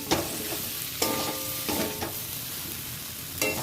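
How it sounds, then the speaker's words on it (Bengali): Jackfruit and prawn curry sautéing in a pan, with a steady broadband sizzle and the scrape of a spoon stirring at intervals, close and continuous with no talking. "দেখুন আমার ভালো করেই কষানো হয়ে গেছে।"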